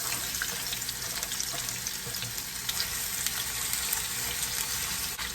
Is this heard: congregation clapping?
no